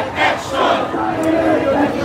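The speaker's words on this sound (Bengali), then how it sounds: "নিজেদের দাবির পক্ষে বিভিন্ন ধরনের স্লোগান কিন্তু তারা দিচ্ছেন" A Khelafat Majlis protest march in Bangladesh demanding justice for the July–August killings, with a crowd chanting slogans in a steady, loud, continuous roar of many voices.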